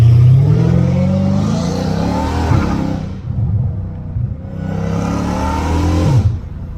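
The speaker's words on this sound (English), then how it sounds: "Dude, the shifts are crazy on this car." A car accelerates hard in close view, the engine revving up in rising sweeps, breaking off at a gear shift, then climbing again through another strong pull.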